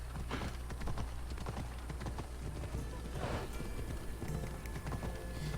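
Horse hooves clip-clopping in a steady gallop while riding through Kythera in Assassin's Creed Odyssey, a continuous rhythmic drumming with a faint snort or whinny mixed in, no talking.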